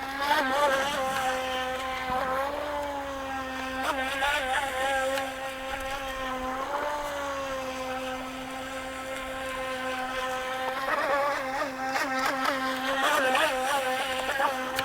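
A UDI U001 Cheerwing Venom RC racing boat whines steadily across the water, its small electric motor holding a high buzzing pitch that rises and dips as it speeds up and carves turns, loud and near throughout.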